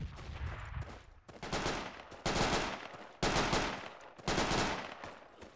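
Gunfire in the Project Reality military video game, with loud repeated bursts of automatic fire in several clusters over a few seconds, each burst cutting in sharply and ringing out.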